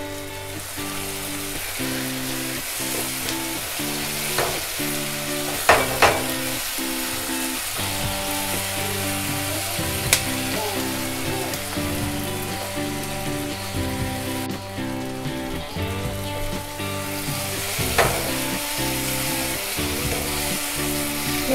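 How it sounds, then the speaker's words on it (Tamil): Onion, tomato, curry leaves and green chilies sauté in oil for kothu parotta, a loud continuous crackling sizzle with rhythmic clanking of a utensil against the pan and occasional sharper knocks, no voices. "வெங்காயம், தக்காளி, கருவேப்பிலை, பச்சை மிளகாய் எல்லாம் சேர்த்து நல்லா வதக்கினதுக்கப்புறம்"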